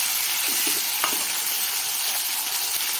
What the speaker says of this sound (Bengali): সব কিছু মশলা আবার 1 থেকে 2 মিনিট ভালো করে নাড়াচাড়া করে নিতে হবে।